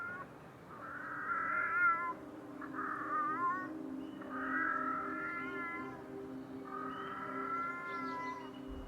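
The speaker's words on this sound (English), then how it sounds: "You hear a cat meowing. Sounds like it's coming from somewhere in the apartment." Several drawn-out meows from a cat somewhere inside an apartment, coming in separate calls of a second or two each with short pauses between them, moderately close and clear over a steady low hum.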